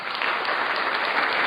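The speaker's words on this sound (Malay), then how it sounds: "Sekejap I nak bagi tepukan." A burst of hand clapping applause from a small group, steady and close, lasting under two seconds with no talk over it.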